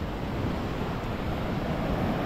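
Sea waves wash onto Patar Bolinao White Beach, a steady broadband roar of surf with wind over the microphone and no voices.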